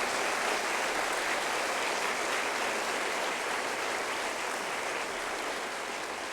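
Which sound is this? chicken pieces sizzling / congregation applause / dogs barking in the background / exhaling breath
congregation applause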